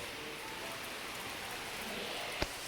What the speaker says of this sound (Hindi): बहुत ही बढ़िया बारिश हो रही है